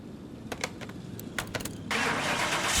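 Nissan 370Z Nismo engine starting in Car Mechanic Simulator 2021: a few quick clicks and starter noise, then the engine catches and settles into a steady, fairly loud idle roar.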